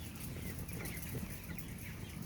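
Broiler chickens in a poultry house with nipple drinkers cluck in a dense, continuous chorus, soft and steady, with no single bird standing out.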